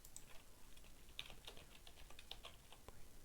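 Someone types an IP address on a computer keyboard, a faint, brisk run of close key clicks over quiet room noise.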